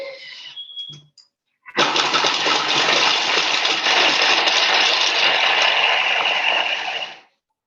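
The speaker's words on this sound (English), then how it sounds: "And chop them for 5 seconds." A kitchen food processor chops onions with a loud, steady motor whir that starts abruptly, runs for about five seconds close by, then cuts off, preceded by brief clatter.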